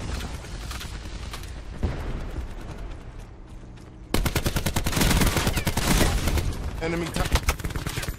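Heavy automatic gunfire in Call of Duty Black Ops 4 multiplayer, a softer stretch of shooting that turns into a loud, dense sustained barrage, with a brief game voice callout.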